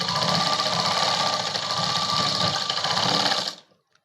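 Sewing machine stitching folded cloth for a hair bow, a fast, even whirring chatter running close and loud for about three and a half seconds before stopping abruptly.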